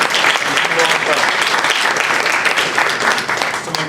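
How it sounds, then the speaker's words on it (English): An audience at a candidate forum for a state house race applauds the candidates, dense steady clapping filling the room, loud and continuous for a few seconds before easing slightly at the end. "Let's give them a round of applause for their participation."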